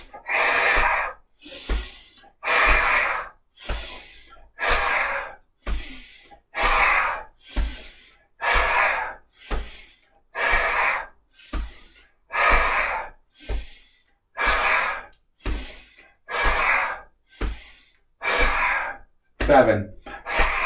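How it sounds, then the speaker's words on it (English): Forceful, rhythmic exhales in a qigong breathing practice, a fiery lion-style breath repeated about eighteen times in steady succession over twenty seconds, each a loud, breathy rush of air with short gaps between. "we're going to turn this into a fiery lion exhale"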